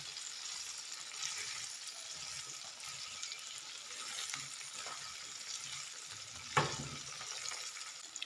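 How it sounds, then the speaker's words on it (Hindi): Steady sizzling of garlic, cumin and green chilies frying in a pan for paratha, a soft continuous hiss with faint stirring clicks and one sharper knock near the end. "लहसुन, ज़ीरा और हरी मिर्च फ्राई हो चुके हैं"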